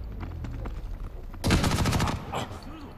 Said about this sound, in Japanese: セントリーガンで敵を抑える